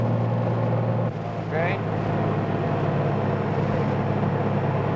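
Small aircraft engine holding a steady, loud drone with a low, constant pitch throughout. A brief voice is heard over it partway through.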